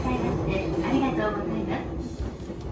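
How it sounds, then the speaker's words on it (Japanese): A Chuo line train pulls away from Hakonegasaki station on the Hachiko line, heard from inside as a low, steady rumble with voices over it. "さあ始発駅箱根ヶ崎駅をもうほぼガラガラの状態で出発"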